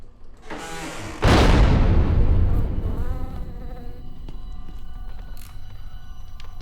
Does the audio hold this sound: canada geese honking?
no